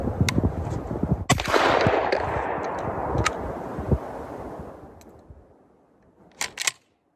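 A Girsan pistol test fired outdoors: a few sharp, loud shots early on, then a long fading rumble and wind, and a couple of crisp mechanical clicks near the end.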